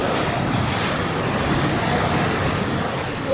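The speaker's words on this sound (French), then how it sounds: "Là aussi, le bruit de la mer, c'est incroyable." Constant roaring rush of sea waves inside a sea cave in Tangier, dense and broadband, echoing steadily with no pauses and no voices.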